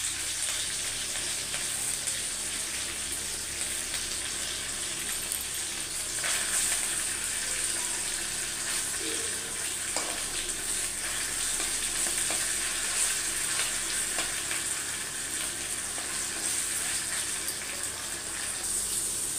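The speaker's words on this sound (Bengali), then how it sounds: "পটলটা আমার ভাজা হয়ে গেছে" Pointed gourd (potol) frying with chopped green chilli and curry leaves, a loud, unbroken hissing sizzle held close throughout, with faint occasional stirring clinks and no voices.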